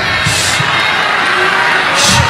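A debate audience at an Iglesia ni Cristo versus Catholic debate shouts and cheers loudly, forming a constant crowd roar with two swelling bursts of whooping, one near the start and one near the end.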